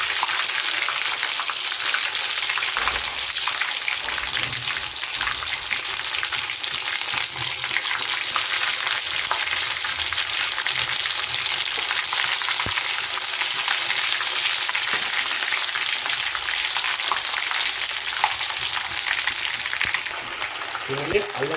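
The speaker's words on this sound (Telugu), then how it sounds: "ఫ్రై అయిన నూనెలనే మనం అల్లం వేసుకొని మంచిగా ఫ్రై చేసుకొని" Ginger paste sizzles and crackles steadily in hot oil in a pan for fish pickle, a loud continuous frying hiss with occasional stirring scrapes and no talk.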